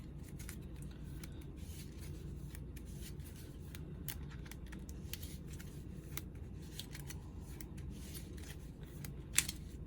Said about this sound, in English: And that goes on top, or into this card, and we shuffle.